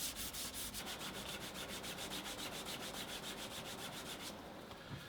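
Rapid, steady back-and-forth rubbing as the edges of a leather long wallet are burnished, a close, even friction sound with quick regular strokes for about four seconds before it eases off.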